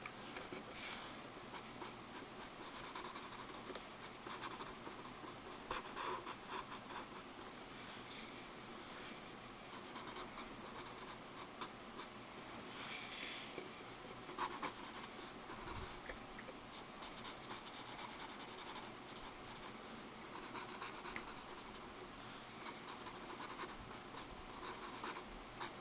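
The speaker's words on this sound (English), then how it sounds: "I like sketching in these small sketchbooks" A pencil sketches in a small sketchbook, soft continuous scratching and rubbing of graphite on paper, close and quiet, with irregular strokes running steadily throughout.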